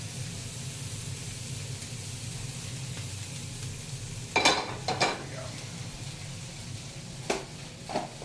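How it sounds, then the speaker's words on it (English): Chorizo sizzling in butter in a pan, with a steady soft frying hiss and a few sharp scraping clanks of a utensil against the pan partway through. "Let the butter kind of pull some of the chorizo off the bottom of the pan."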